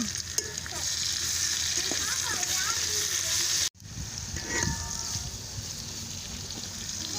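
Mint and coriander leaves fry and are stirred in oil for chicken biryani, a steady close sizzle running throughout with a brief dropout midway, while a voice talks over it.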